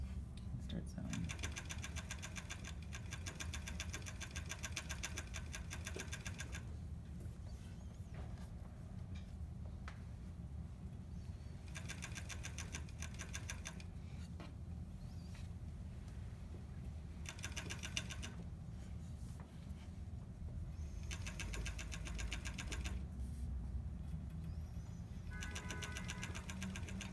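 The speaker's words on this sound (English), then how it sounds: "And start sewing." Sewing machine running on fabric in repeated bursts of steady motor whir and needle patter separated by pauses, quiet and close, with a person talking at times.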